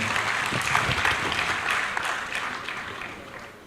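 Applause from an audience at a ceremony decorating newly promoted military officers and men, a brief, fairly loud wash of clapping that tapers off toward the end.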